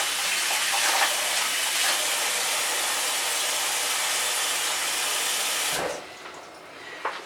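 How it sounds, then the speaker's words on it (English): Tap water gushing steadily into a bucket for a t-shirt dyeing job, a loud continuous rush that stops abruptly near the end, leaving faint drips and handling sounds. "let's get a little tiny bit of normal water in this bucket"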